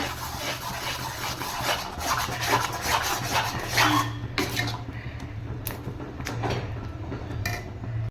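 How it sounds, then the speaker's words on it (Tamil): A spoon continuously stirring and scraping thick beetroot halwa in a pan, a steady rasping rub that runs the whole time, close and moderately loud. "இப்போ வந்து இந்த கைவிடாமல் நல்லா கிண்டிகிட்டே இருக்கணும்."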